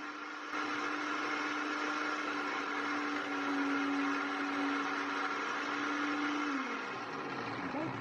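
A blender motor whirs loudly and steadily for several seconds, its pitch dropping as it winds down near the end.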